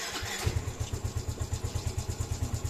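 A Yamaha Mio i 125 scooter engine with its exhaust fitted starts up and settles into a steady, rapid idle. The low, evenly pulsing thump is close and loud, with no talking.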